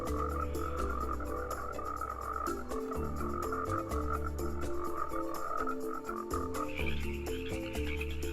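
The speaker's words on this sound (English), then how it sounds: "This is a treasured moment in this chorus tree frog's life." Chorus tree frogs croak steadily in a desert wetland, a dense overlapping chorus of rhythmic pulsing calls that carries on without pause, moderately close and with no voices.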